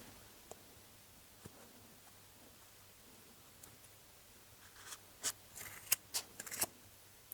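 Scissors snip through fluffy yarn in a few faint, quick cuts clustered near the end, after a long stretch of quiet room hiss.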